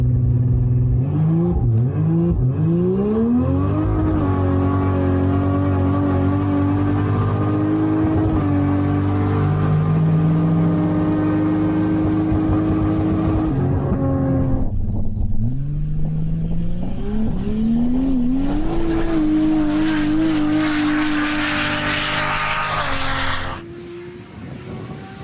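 An 800-horsepower rear-wheel-drive drag car with a Turbo 400 transmission on drag radials revs hard at Cootamundra Airport, its engine rising and falling through loud, sustained sweeps before cutting off near the end.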